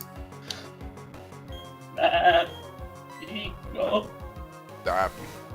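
A human voice imitating a goat bleat, with a few wavering nasal bleats in separate bursts.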